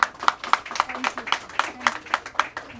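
Audience applause breaking out for a show organizer during a live stage event, a burst of claps rising and thinning over a few seconds, rhythmic and moderately loud with room echo.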